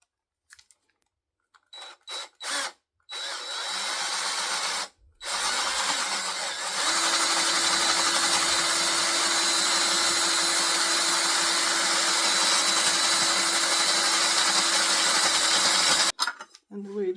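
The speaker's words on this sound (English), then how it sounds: "So now I just drill holes where those gonna be." A power drill with a 3/4 inch bit bores holes into a wooden entrance door jamb, with a few short starting bursts, then a loud continuous whining grind for about ten seconds before stopping.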